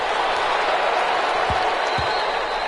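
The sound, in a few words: crowd applause in an American football video game on PS4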